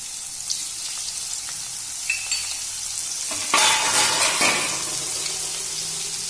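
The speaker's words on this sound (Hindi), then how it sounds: "हमने जो लहसुन और जीरा का पेस्ट बनाया था उसे अब हम इसमें" Garlic and cumin paste frying in oil, a soft steady sizzle with scraping stirs, then a louder hiss burst around the middle as more goes into the pan, close with no talking.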